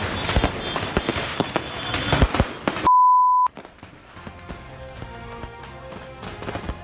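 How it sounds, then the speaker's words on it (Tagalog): Firecrackers from a burning fireworks store in Barangay Canhulaw, Lapu-Lapu, Cebu go off in a dense, crackling series of sharp pops. A steady tone breaks in briefly, and then scattered bursts continue at a lower level. "nang sunod-sunod na sumabog ang mga panindang paputok doon"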